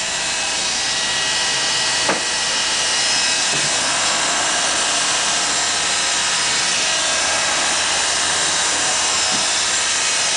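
Electric hair clippers buzz steadily and close up while shaving shoulder-length hair down to a bare scalp, a continuous broadband whir filling the whole stretch with only a couple of faint clicks and no talking.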